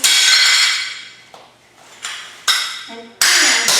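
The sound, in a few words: hammer smashing a plate inside a garbage bag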